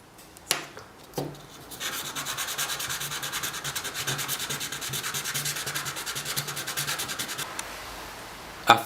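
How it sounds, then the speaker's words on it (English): A Stirling engine piston sanded by hand for several seconds, a steady, close rasping rub with a couple of sharp knocks at the start and a clunk at the end, no voices. "After a couple of minutes of sanding, it is ready."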